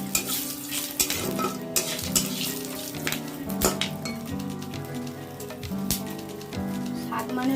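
Fennel, panch phoron, a bay leaf and a whole dried chilli crackle in hot oil for cooking greens. The oil gives a patchy, popping sizzle with sharp spits scattered throughout, close and moderately loud, with no talk.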